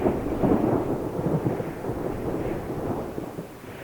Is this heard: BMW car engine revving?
no